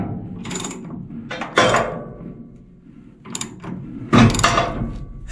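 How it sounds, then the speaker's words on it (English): A Troy-Bilt CS4325 chipper shredder's blades catch on a fed branch, giving loud grinding, clattering bursts separated by quieter gaps, close to the machine. "stick a branch down there, and if I'm right, that should catch on the blades and stop the motor from turning"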